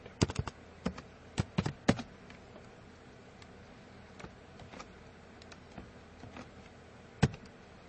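A computer keyboard clicks while ABAP code is written in SAP, with sparse, uneven key presses and a quick cluster near the start, then isolated taps over quiet background hum.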